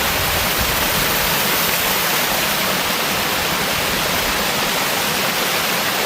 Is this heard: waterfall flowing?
yes